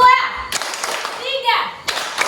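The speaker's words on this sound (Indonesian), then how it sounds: "Silakan fokus. Tepuk 1, 2, 3," Children in a classroom clap in short group bursts on a teacher's one-two-three counting cue, sharp claps spaced between the teacher's spoken prompts in a close indoor room.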